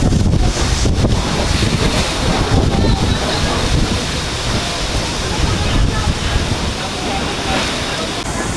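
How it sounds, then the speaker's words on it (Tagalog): Strong typhoon wind roars and buffets the microphone continuously in Sariaya, Quezon, with surf-like rushing noise and a voice faintly in the background. "ang lakas ng hangin oh."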